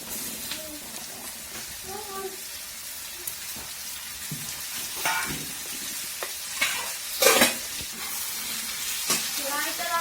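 Cumin and mustard seeds sizzle in hot oil for a pumpkin bhaji, a steady frying hiss with bursts of stirring and spatter, with a faint voice in the background.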